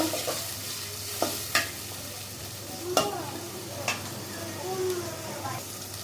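Onions frying in a pan for chicken biryani, a steady soft sizzle with several sharp scraping clicks of a spoon stirring them, close by and with no talking.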